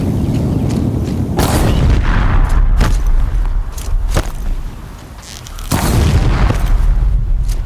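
Deathbringer machines firing on a bridge in Horizon Zero Dawn, a dense rumbling din of heavy booms and sharp cracks over constant low battle noise, loud and close throughout.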